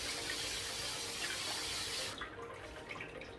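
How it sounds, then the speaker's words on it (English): Tap water runs steadily into a kitchen sink while cooked pasta is rinsed of starch, a close, continuous hiss that cuts off abruptly about two seconds in, leaving faint trickling. "And then just rinse it for all the starch to get off."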